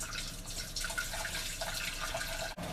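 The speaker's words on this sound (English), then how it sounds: "Boiling water in the saucepan." Boiling water is poured from a kettle into a saucepan in a home kitchen, a continuous splashing, gurgling stream that lasts the whole moment, fairly quiet and with no voices.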